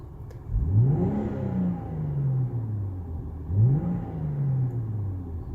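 A Volvo S60 T6 R-Design engine runs warm while the car is driven, rising twice in smooth revving pulls that fall back to a steady mid-pitched drone, close and fairly loud with no talk.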